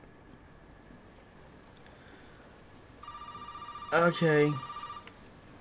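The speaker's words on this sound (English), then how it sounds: "Oh, and now the phone's ringing." Telephone ringing in the horror video game Resident Evil 7: a bright electronic ring starts midway and pulses in two loud bursts, with a brief spoken word over it and quiet game ambience before.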